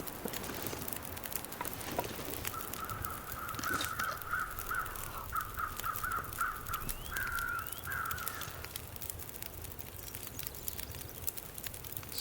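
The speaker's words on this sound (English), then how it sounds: "I swear I can hear another set of crows that is not these two" Crows caw in a steady run of harsh repeated calls at a distance, carried over a constant outdoor hiss of ambient noise with no talking.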